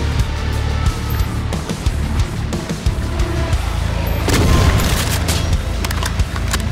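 Loud, dense gunfire in DOOM 2 with the Project Brutality mod, fired at a chaingunner on the Master Levels map The Combine. Rapid shots and booms run throughout, heaviest in the second half, with no talking.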